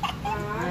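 Chickens clucking close by in a yard, a short burst of calls over a low steady background hum.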